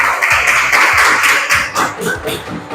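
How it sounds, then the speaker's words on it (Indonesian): Students in a high school class clap their hands together for a classmate, a short burst of dense, close clapping with some voices mixed in. "tepuk tangan dulu buat Kristania."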